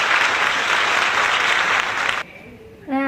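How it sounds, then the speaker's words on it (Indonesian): A classroom group claps together after a student presentation, a dense burst of applause lasting about two seconds that stops abruptly, followed by a brief voice. "Baik, beri tepuk tangan."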